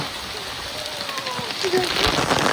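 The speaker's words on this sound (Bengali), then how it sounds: "বৃষ্টি চলে আসে, এখন তাড়াতাড়ি বাড়ি যেতে হবে।" Rain falls steadily over an open field, a dense, even hiss that swells slightly louder toward the end, with faint voices in the background.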